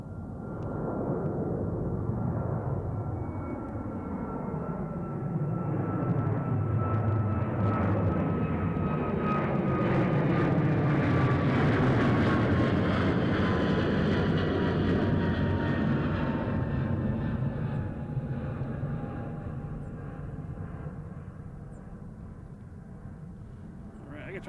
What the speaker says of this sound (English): we have American Airlines taking off to Phoenix